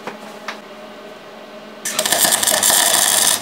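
A MIG welder tacks a spot weld onto metal pieces in a workshop, giving a loud, steady crackling buzz of about a second and a half after a quiet stretch with a couple of faint clicks.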